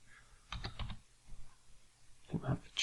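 Clicks from a computer keyboard come in two short bursts of quick keystrokes with a pause between, quiet and close, with a faint hum underneath.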